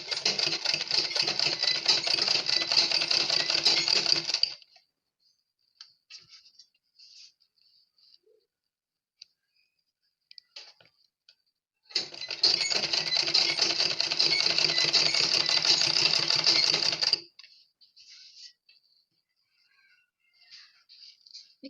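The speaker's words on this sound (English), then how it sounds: "Then I'm going to sew it all the way down." A sewing machine runs in two bursts, each lasting about five seconds, while stitching down the folds of a pleated turban. Quiet gaps with faint handling noises sit between the bursts, and there is no talking.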